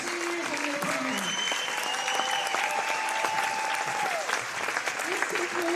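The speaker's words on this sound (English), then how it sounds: "Let's give one final round of applause to our seniors and their parents." A crowd applauds seniors and their parents at a varsity basketball senior night in a gym, steady clapping mixed with sneaker squeaks and scattered voices, while someone talks over it.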